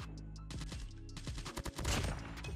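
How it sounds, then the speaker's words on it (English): Call of Duty Mobile gunfire crackles in quick automatic bursts. Sharp, close shots clump into a rapid volley with no talk over them. "Oh, wait, I'm getting shot at."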